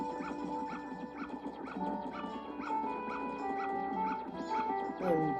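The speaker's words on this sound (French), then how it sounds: "Il m'aime pas du tout le chien." Dog barking in the Zelda Majora's Mask video game: repeated short, evenly spaced yips over busy game music, moderately loud and continuous through the clip.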